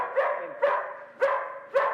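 Greyhounds bark in kennels, four sharp, fairly loud barks spaced about half a second apart, close by and with no talking.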